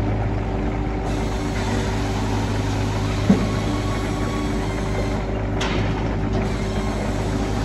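A firewood saw bench machine runs in a steady, loud mechanical drone outdoors, its low hum and rattle continuous, with one brief sharp knock partway through.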